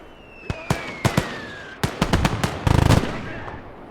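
Four .50 cal machine guns firing in a WWII combat video game, sharp separate shots at first, then a tight rapid burst, loud and close, with a faint whistle trailing through.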